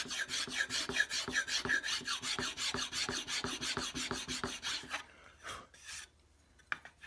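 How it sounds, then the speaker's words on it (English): A metal file rasps along the wooden stock of a swivel breech rifle kit in steady, evenly spaced strokes, close and fairly loud, then slows to a few scattered scrapes and a light tap near the end. "Draw your file in towards the wood."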